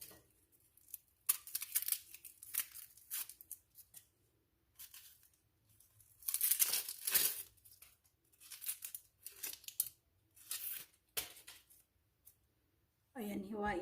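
Dry onion skin being peeled by hand in a home kitchen, giving several short papery tearing and crinkling bursts separated by brief pauses, close and fairly quiet.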